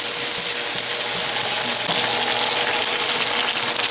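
Chicken being stirred with a spatula in a hot pan, with a steady loud sizzle of frying throughout and faint scraping movements mixed into the crackle.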